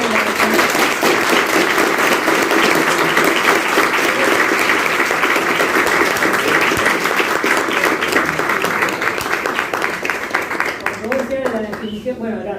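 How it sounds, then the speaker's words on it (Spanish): An audience at an open talk on the Rwandan genocide breaks into sustained, dense applause that carries on for several seconds, then thins out as a voice comes in at the end. "Me aplaudieron"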